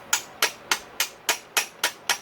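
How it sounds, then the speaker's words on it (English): A rounded-end hammer strikes a Yamaha YZ250 two-stroke engine case to split it: seven sharp, evenly spaced blows, close and loud, with no talking. "I like this hammer though because it's been used for a lot of years and it's rounded on the end"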